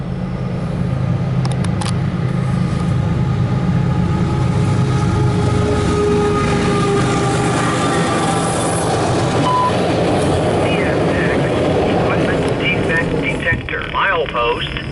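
CSX Q276 freight train of loaded autoracks rumbles steadily past at close range, a continuous heavy drone with rail clatter and some squealing tones, while a voice speaks faintly over it.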